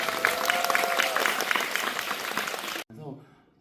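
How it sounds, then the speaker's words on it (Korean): An audience at a cinema talk event applauds for actor Oh Jung-se, a full steady round of clapping that cuts off sharply near the end, followed by a brief voice. "박수 한번 부탁드립니다"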